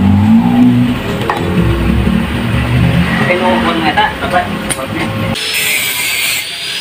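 A car engine fitted with a DR Sound CMS copy exhaust rumbles and revs up and down, loud and close, amid workshop clatter, and the sound cuts off abruptly near the end.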